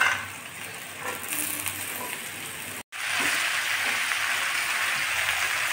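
Bitter gourd and potato pieces sizzle in hot oil with fried onions in a pan, a steady close hiss of frying with a brief break partway through.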